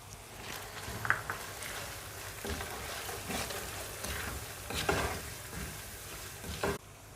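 Spices being fried and stirred in a pan for chicken fried rice, with steady close sizzling and intermittent scraping stir strokes, alone without talk.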